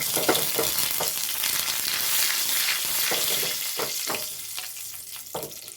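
Curry leaves crackle and sizzle as they hit hot oil, a loud close hiss with sharp pops and a few stirring knocks; nobody speaks.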